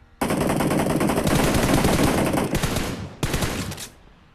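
Rapid bursts of automatic gunfire in the video game PUBG Mobile, loud and close, in long sustained volleys with brief pauses between them.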